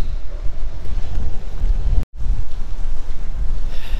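Strong, steady wind roars and buffets close to the microphone at a campsite under a bridge during an ice storm, with a brief dropout near the middle.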